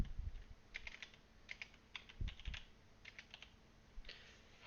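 Quiet, close keystrokes on a computer keyboard come in short clustered bursts with brief pauses, a light clicking rhythm with no talking.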